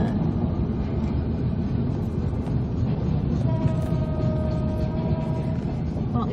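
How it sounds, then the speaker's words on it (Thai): A Thai express sleeper train arrives, rumbling loudly nearby with a deep, steady roar, and a sustained whistle-like tone rises partway through. "รถไฟมา"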